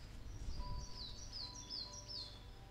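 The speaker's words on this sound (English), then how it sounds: "now you can hear birds in the background" Birds chirp faintly in the background outdoors near a path, several short descending tweets repeating over a low steady rumble.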